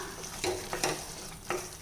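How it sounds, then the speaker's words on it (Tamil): A utensil scrapes and stirs through potatoes in a frying pan, with a few distinct scraping strokes over a steady low sizzle. "உருளைக்கிழங்கு சேர்த்து நல்லா பிரட்டி விட்டுக்கலாம்"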